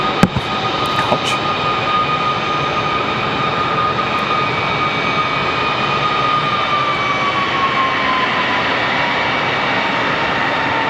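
Airbus A319 jet airliner at Raleigh-Durham International Airport, a loud, steady engine roar with a whining tone that slowly falls in pitch, sustained throughout without any talk.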